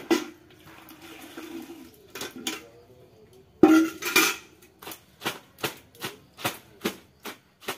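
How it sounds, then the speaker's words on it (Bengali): Clothes are washed by hand with water outdoors: sloshing and splashing, a sudden loud splash midway, then a regular series of wet slaps as the fabric is beaten or wrung, close and without talk. "তো জামা কাপড় ধুয়ে দিচ্ছি জামাটা"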